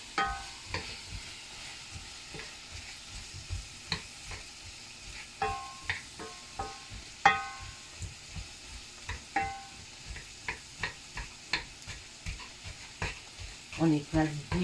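Spinach with shrimp and mussels stirred in a pan, a utensil scraping and clicking against the metal in a steady series of strokes over a faint sizzle, with brief low murmurs of speech.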